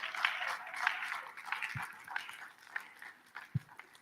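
Scattered applause from a summit audience welcoming a speaker to the stage, a diffuse patter of clapping with a couple of sharp low thumps, moderately loud and continuous.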